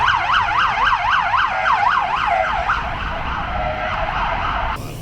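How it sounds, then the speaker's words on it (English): Ambulance siren on a street in Puebla, Mexico, loud and wailing in rapid rising-falling sweeps that shift to a steadier tone before cutting off, with traffic rumble underneath. "And here comes an ambulance."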